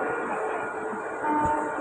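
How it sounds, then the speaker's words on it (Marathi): An LTT–Gorakhpur Express pulls into a station platform, heard as a steady broad rumble of rolling railcars with a faint metallic whine, swelling slightly louder toward the end. "11079 down Lokmanya Tilak terminus Gorakhpur express platform क्रमांक 4 पर ये आहे।"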